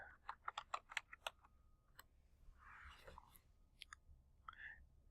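Typing a password on a computer keyboard: a quick burst of crisp key clicks, then a pause and a few scattered taps, faint and close with a soft rustle, no talking.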